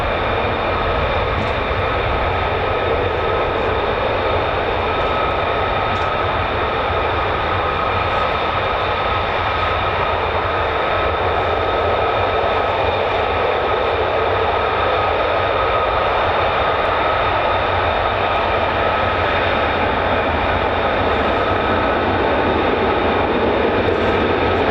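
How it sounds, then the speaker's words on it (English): An F-35 fighter jet taxiing at RAF Lakenheath gives a loud, constant engine roar with a steady whine that holds evenly throughout, nearby and unbroken. "F-35s. So another one taxiing down the catwalk."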